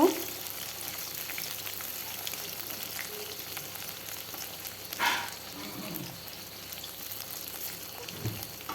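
Fish frying in oil in a pan for a home-style fish curry, a steady soft sizzle running throughout with a brief louder crackle or stir near the middle and another near the end.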